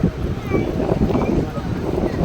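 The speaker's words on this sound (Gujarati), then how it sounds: "જોઈ શકો છો તમે કેટલો પવન આવે છે" Wind gusts buffet the microphone in a steady low rumble on a bridge over the Narmada River at Omkareshwar, with muffled voices faintly underneath.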